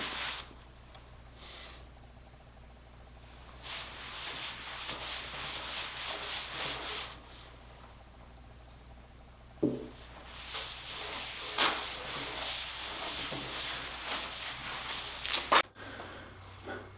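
Wipe-on poly finish of boiled linseed oil, mineral spirits and polyurethane being rubbed by hand onto a workbench top, soft swishing strokes coming in bursts with quiet pauses and a few small knocks, close and fairly faint.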